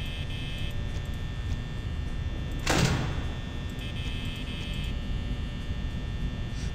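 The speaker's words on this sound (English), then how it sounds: "Shut that door." A metal security door slams shut in Five Nights at Freddy's, one loud short whoosh-and-clang over a constant electrical hum and buzz.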